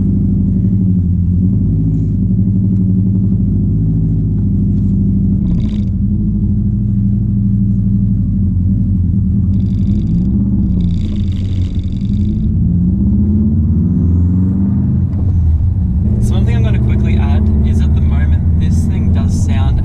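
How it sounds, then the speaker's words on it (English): Straight-piped manual Subaru WRX rumbling loudly with a deep, steady engine drone, rising in pitch as it revs, with a sharp turbo whistle and hiss breaking through near the end; people talk briefly over it. "I love the turbo whistle in this car"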